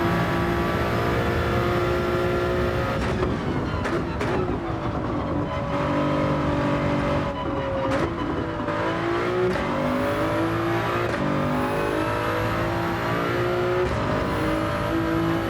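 A race car engine in Gran Turismo 7 roars loudly and continuously, revving up and down through the gears with rising and falling pitch sweeps and brief shift dips, dense and close throughout.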